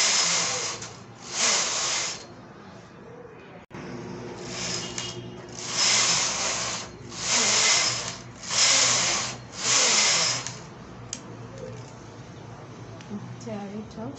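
A knitting machine carriage is pushed back and forth knitting rows of waste yarn, producing repeated loud swishing, rasping passes in a steady rhythm, close by.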